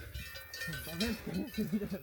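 Hollow cowbell clanks ring out irregularly from cows grazing in the Alps nearby, mixed with faint livestock noise and some brief human voice in the background.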